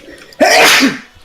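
A single loud, close sneeze, a sharp breathy burst that fades after about half a second.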